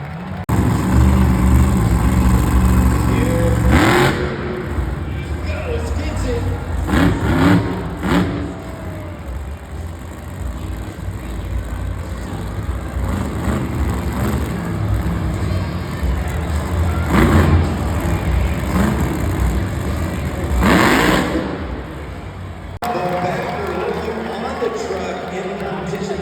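Monster truck engine revving loudly at a Monster Jam event, Tony Oaks's truck balancing on its front BKT tires, with sustained engine roar and crowd noise throughout and bursts of louder revving; an announcer talks over it.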